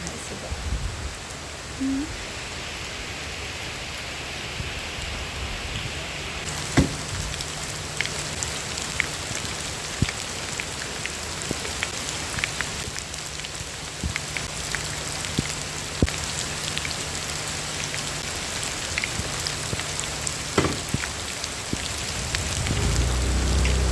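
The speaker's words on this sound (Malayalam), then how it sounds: "ഇവിടെ നല്ല മഴയായി നോക്കി" Steady heavy rain hisses continuously on surfaces, with scattered sharper drops and a faint low hum underneath throughout.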